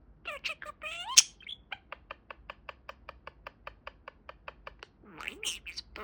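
A budgie parakeet chirps and squawks up close, with a run of evenly spaced short clicks in the middle and a burst of bright chattering calls at the end, no talk.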